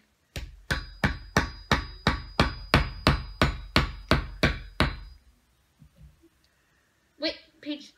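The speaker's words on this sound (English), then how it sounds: "Can I hammer it yet?" About fourteen sharp hammer blows on a toy T. rex dinosaur excavation kit strike in a steady, even rhythm, then stop, leaving a few faint knocks and rustles.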